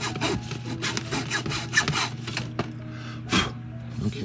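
A small hand saw cuts a shallow, even 1/8-inch groove in wood for a 1:400 scale model of the S.S. Edmund Fitzgerald, producing quick rhythmic back-and-forth rasping strokes, close and moderately loud.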